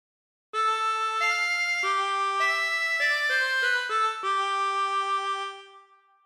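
A harmonica plays a slow phrase of God Defend New Zealand, with about ten clear reedy notes stepping in sequence, each held and blending into the next before fading out, close and alone.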